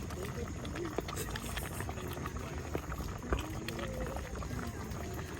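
Shrimp cook in a pot of coconut curry at a campsite, a steady bubbling simmer with soft pops under outdoor background noise and occasional voices.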